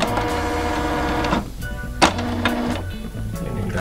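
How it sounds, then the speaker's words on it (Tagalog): A Canon desktop printer runs off a tattoo stencil of a rose, giving a steady close mechanical whir with low motor drone, a brief dip near the middle and a sharp click before the feed resumes. "Desktop printer lang gamit ko, Canon."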